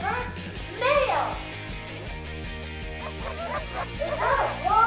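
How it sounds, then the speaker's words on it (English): Small dog yips and barks in short bursts, fairly close, over cheerful background music with a voice nearby. "Is that a dog?"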